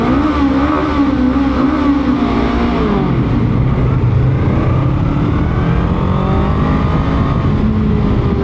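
A Honda Rebel 500 motorcycle on its stock muffler revs and pulls through a tunnel, its loud engine note rising and shifting pitch with a steady, echoing drone throughout.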